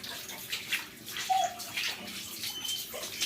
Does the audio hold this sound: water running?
yes